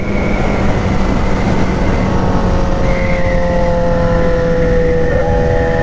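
Homemade Yamaha XJ6 motorcycle with a straight 2.5-inch pipe exhaust and Fuel Tech tuning revs loudly up close, its engine tone climbing and holding at high pitch in sustained, buzzing pulls with no talk.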